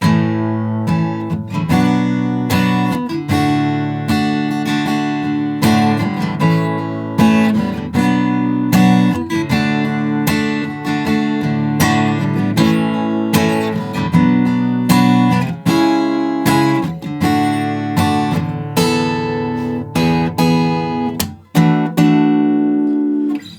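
Strummed guitar chords play the chorus of a song, a steady rhythmic pattern of loud, close acoustic strums with no voice over it.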